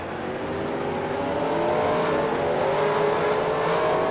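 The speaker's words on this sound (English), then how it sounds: "As you see the pace car roaming on by" A pace car in a racing video game drives by, its engine a steady, rising drone that swells gently and holds without a break, with no voices present.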